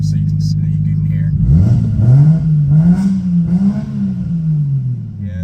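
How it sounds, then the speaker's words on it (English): A 1998 Nissan Skyline R34 25GTT-R engine revs up close by, its pitch climbing sharply and then holding high and rowdy before easing back, heard alone and loud. "I'm try to give it a little higher rev so you can hear."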